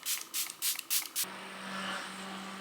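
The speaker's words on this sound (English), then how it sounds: "go in with the setting spray just to lock the foundation in" Makeup setting spray is misted onto a freshly foundationed face in five quick, close hissing bursts, followed by a quieter, softer hiss and faint hum.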